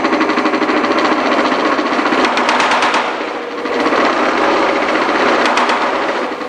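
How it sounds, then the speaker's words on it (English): A metal shrinking machine driven by a VFD hammers its die against sheet metal in a fast, loud, continuous mechanical chatter, briefly easing around the middle before resuming at full rate. "that point where you hear the noise hitting, that's when the die is being thrown and will shrink the metal"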